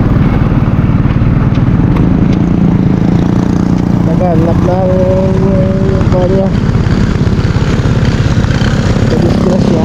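A motorcycle engine running at a roadside, a loud steady throbbing rumble held close throughout, with a brief whine of higher tones partway through and a person talking over it.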